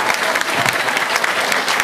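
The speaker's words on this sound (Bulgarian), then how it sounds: "да пляскаме на Господа" A church congregation claps in praise to God during a worship service, a dense, loud burst of applause from many hands, continuous and close, with a faint murmur of voices.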